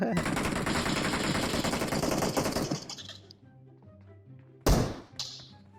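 Rapid automatic gunfire in the mobile battle royale game PUBG Mobile, a dense burst of loud close shots for about three seconds, then quieter game tones and one more sharp impact, with a voice briefly heard.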